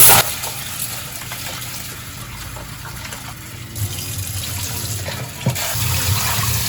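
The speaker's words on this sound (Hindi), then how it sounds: "तो पहले इसको वॉश कर लेते हैं दाल" Lentils (dal) washed in water, a continuous low sloshing and running-water wash with a few louder splashes, fairly close.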